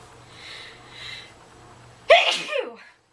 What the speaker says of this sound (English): And I sneeze really, really loud.